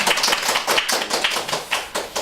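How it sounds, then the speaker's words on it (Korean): Audience applause at a book lecture on writing self-introductions: a modest group clapping with uneven, sparse hand claps that rise and fall in bursts. "여기서 박수 한번 주셔야 될 것 같습니다"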